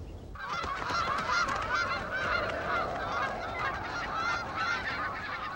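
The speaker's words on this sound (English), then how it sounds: "The geese are nearing the end of their journey from the south." A flock of geese migrating north in early summer honks continuously, many overlapping calls over a steady wind-like rush, fairly close and without talk.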